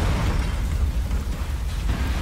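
A continuous explosive rumble from the Resident Evil 2 Remake game, heavy low-end booming and crackling sustained loudly for a couple of seconds with no talk over it.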